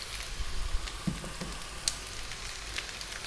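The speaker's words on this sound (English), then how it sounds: "We're now going to go in with that 1 cup of onion, 1 tablespoon of garlic" Onion and garlic hit a hot frying pan of browning potatoes, giving a soft, steady sizzle with faint crackles throughout.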